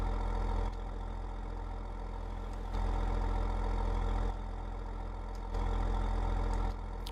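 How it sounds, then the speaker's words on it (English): Tractor engine idling in the Farming Simulator 15 game, a steady low rumble that alternates between louder and quieter stretches every couple of seconds, with no talking over it. "When I go to IC, the engine gets louder."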